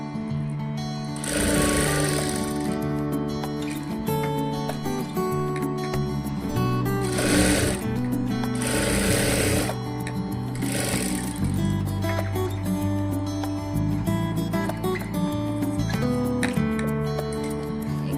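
An electric sewing machine stitches a back neck design on a blouse, running in several steady whirring bursts of rapid needle clatter, close up, with short pauses between runs.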